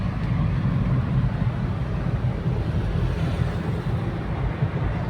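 Inside a car on the Katraj ghat road, a steady low rumble of engine and road noise with a roaring wash as it drives into a tunnel, continuous and without talking.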